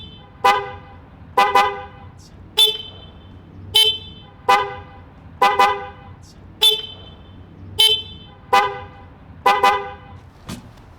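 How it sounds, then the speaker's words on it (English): A Triumph Speed Twin motorcycle's dual 400 Hz and 500 Hz horn gives a steady run of about a dozen short, loud, close honks, spaced roughly evenly, with no talking. "it's actually a dual horn, 400 hertz and a 500 hertz horn"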